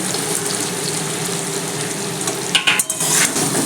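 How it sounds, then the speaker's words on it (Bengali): Fried tangra fish goes into a simmering potato and radish chachchari in a pan and is stirred, giving a steady wet sizzle with a brief burst of scraping and clatter near the end. "এবার আমি ভাজা মাছগুলো দিয়ে দিচ্ছি"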